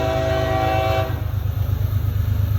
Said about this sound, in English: It's an intermodal train here.